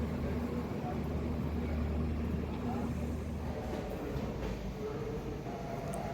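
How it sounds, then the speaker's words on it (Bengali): The 18063 Yelahanka AC Express pulls out of Kharagpur Junction with a steady, moderately quiet rumble and rolling noise heard from on board, continuous throughout. "ট্রেন খড়গপুর জংশন ছেড়ে বেরোচ্ছে"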